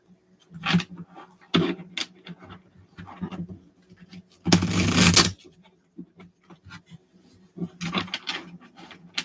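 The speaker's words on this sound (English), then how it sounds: "I always shuffle them 3 times." Several bursts of a small tarot-style card deck being shuffled, each a quick riffling clatter, with one longer, louder riffle in the middle and short pauses between.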